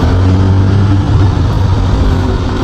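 A Honda CB500SF four-cylinder motorcycle engine with electronic clutch upshifting and pulling hard, a dense, close, steady engine drone that holds without a break.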